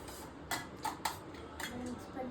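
A spoon scraping and clinking against a metal cooking pot as ingredients are stirred together, several quick knocks over a steady background hum, with a voice speaking in the background.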